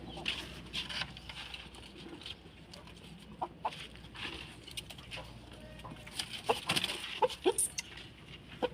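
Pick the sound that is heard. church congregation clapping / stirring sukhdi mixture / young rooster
young rooster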